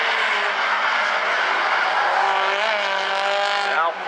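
Stinger race cars roar through a figure 8 race at South Sound Speedway, a loud, continuous engine drone with a rising pitch sweep near the end as a car passes close.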